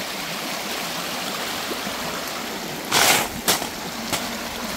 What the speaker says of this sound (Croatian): Voda izvire.